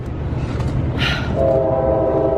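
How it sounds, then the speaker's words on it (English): A train rolls past with a steady rumble and rail noise, and partway through a loud, sustained horn blast sounds close by. "oh, there's a train."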